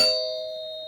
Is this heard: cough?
no